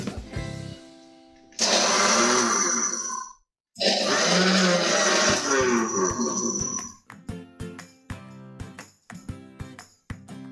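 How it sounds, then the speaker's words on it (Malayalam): Mixer grinder coarsely pulsing dried fish for chutney: two loud, close whirring bursts separated by a brief stop, then a series of sharp rattling taps as the jar is shaken and settled. "ഇതിനെ മിക്സിക്ക് ചെറുതായിട്ടൊന്ന് അടിച്ചെടുക്കും"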